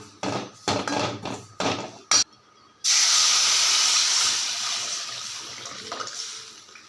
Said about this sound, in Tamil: இப்போ இந்த கரைச்சி வச்ச புளி தண்ணியை இதில் ஊற்றிக்கலாம்